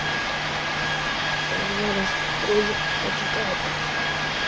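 An airplane engine drones steadily while the aircraft comes in to land in a flight game, a continuous loud hum with a faint tonal whine, and a person talks softly under it.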